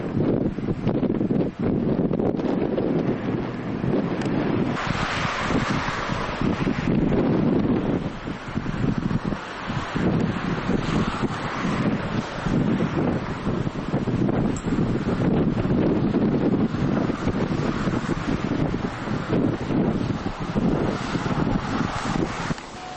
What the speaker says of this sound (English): By golly, it's windy.